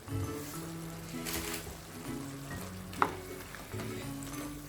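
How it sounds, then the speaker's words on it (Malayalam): Chicken jalfrezi masala being sautéed in a pan, a continuous moderate sizzle with occasional stirring scrapes and one sharp clink of utensil on metal, no voices. "എന്നിട്ട് മിക്സ് ചെയ്തിട്ട് കുറച്ച് നേരം കൂടി ഒന്ന് വഴറ്റിയെടുക്കാം."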